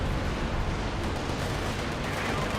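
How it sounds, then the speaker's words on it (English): Katyusha or B4 artillery barrage in Company of Heroes 2, a continuous loud rumbling roar of blasts merging into one dense wall of noise. "I think a good idea just throw artillery barrage over here, whether it be Katusha or B4"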